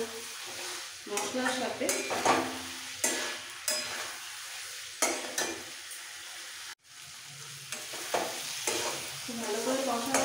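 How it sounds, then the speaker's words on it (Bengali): Boiled potatoes sautéed with spices in a pan for Bengali alur dom, giving a steady sizzle with repeated scraping stirs. A brief spoken line comes partway through. "এবার একটু ভালো করে কষিয়ে নিতে হবে আলু"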